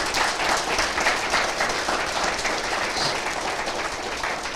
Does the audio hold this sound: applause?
yes